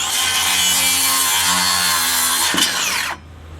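Wood is cut with a loud, close saw in one continuous buzzing, rasping pass that ends abruptly and leaves a quieter background hum.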